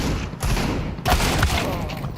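Shotgun blasts in Counter-Strike at an IEM Katowice 2025 esports match, two loud broadband shots about half a second and a second in, over a steady dense bed of in-game noise with no talk.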